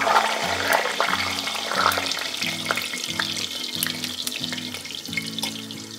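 Crepe batter frying in hot oil, continuous close sizzling and spattering with a humming background underneath.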